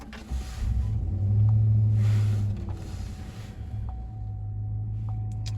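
A Chevrolet Silverado pickup truck engine cranks and rumbles to life on a cold day, rising to a deep throaty exhaust roar before settling into a steady low idle.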